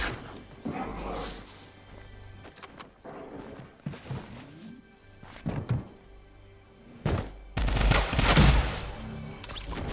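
Drum gun fire in Fortnite comes in several loud, rapid bursts of automatic shots, with quieter stretches and game noise between them.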